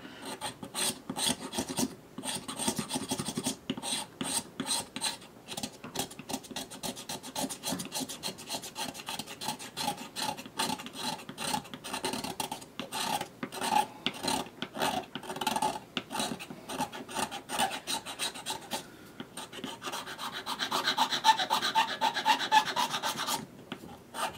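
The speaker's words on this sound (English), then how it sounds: "let's take the pocket knife and I'll show you this, my favorite method, which is a scraping method" Pocket knife blade scraping a mold line off a plastic part from a Merr-Sonn Power 5 BlasterPro blaster kit, a dense run of quick rasping strokes, close and steady, with no talk.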